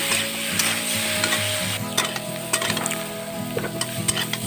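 Potatoes sizzle in oil in a pan with a dense, continuous crackle, plus light scraping and occasional utensil clinks against the pan. No one speaks.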